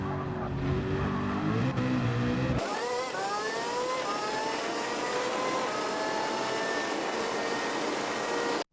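A Group 1 race car engine roars at high revs in Gran Turismo 7 at Le Mans, then climbs steadily in pitch as it accelerates hard out of a corner, loud and continuous throughout.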